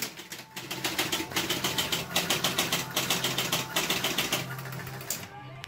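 A Jungle Queen pinball machine powers up after its start button is pressed, giving a busy, rhythmic mechanical clatter of rapid repeated clicks and buzzing that carries on steadily for several seconds at close range.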